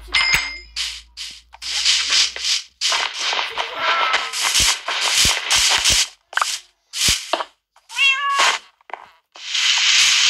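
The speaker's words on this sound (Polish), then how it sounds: "to mój kot jest, no." A cat meows repeatedly, loud and close, in bursts mixed with metallic clinks and dings during a Minecraft game session.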